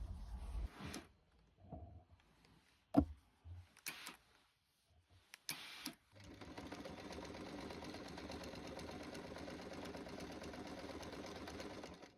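An electric sewing machine stitches binding onto the edge of a quilt, running in a steady, continuous whir for the second half after a few short bursts and handling knocks.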